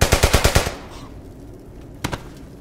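Machine-gun fire in the World War II shooter Brothers in Arms: Hell's Highway: a fast, loud burst of about seven close rounds, then a quiet pause and two more sharp shots.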